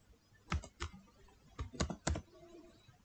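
Keys clatter on a computer keyboard as a Google account login is typed, a few quick close bursts of clicks separated by short pauses in a quiet room.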